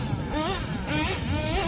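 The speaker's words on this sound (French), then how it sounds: "les moteurs de compétition, ça n'a rien à voir avec les moteurs d'origine" Small nitro engine of a Hobbytech NXT or Kyosho Inferno Neo 3.0 RC buggy, a competition engine, revving hard in a high, buzzing whine that rises and falls through repeated throttle blips, loud and close throughout.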